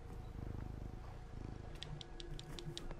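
A cat in the video game Concrete Genie purrs in a low, steady, rhythmic rumble, close and soft, with faint higher chimes from the game toward the end.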